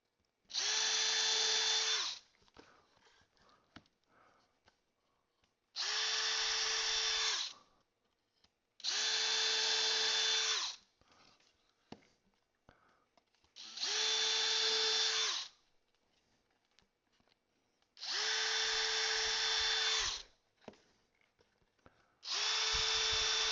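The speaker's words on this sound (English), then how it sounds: "Just put a little pressure on it as you're drilling the holes." An electric drill drilling holes in wood for a bluebird house, running loud and close in about six separate bursts with short quiet pauses between them.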